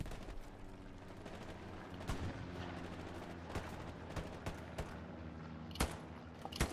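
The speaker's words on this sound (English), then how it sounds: "I'm pinned down by the machine gun that's shooting at us" Sustained gunfire from the video game Hell Let Loose, machine guns among it, a dense steady battle din with sharp cracks and bursts standing out near 2, 3.5 and 6 seconds, with no talk.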